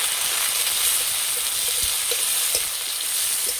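Tomatoes and slit green chilies hit a pan of lightly browned onions, giving a loud, close, steady sizzle broken by occasional stirring knocks, with no talking.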